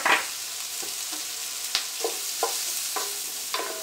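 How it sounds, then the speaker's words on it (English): Bologna and onions fry in a pan, a steady broadband sizzle broken by intermittent scraping and stirring clicks, close and moderately loud, with no voices. "I love the smell of onions frying."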